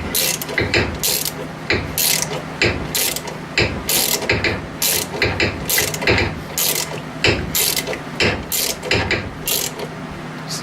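A ratchet cranks a ball joint press in quick repeated bursts of clicking, the pawl ticking loudly and close with short pauses between strokes.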